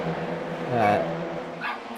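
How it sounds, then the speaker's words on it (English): A neighbour's dog barks once at a middle distance, behind a steady hum and a voice that continues throughout. "Hello to my neighbour's dog."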